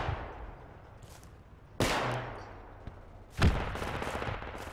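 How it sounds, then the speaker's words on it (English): Small arms fire in the military shooter Project Reality, with two loud sharp reports about two seconds apart among scattered fainter distant shots. "We got a lot of small arms fire near the marker."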